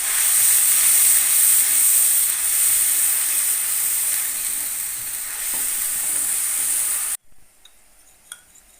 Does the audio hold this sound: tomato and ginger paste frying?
yes